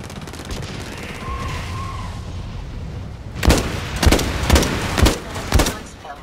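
Gunfire rings out in the shooter video game Blacklight Retribution, first as a low background hum. Then come five or six loud, sharp shots in a quick, uneven burst, close and punchy, with a muffled voice briefly in the background.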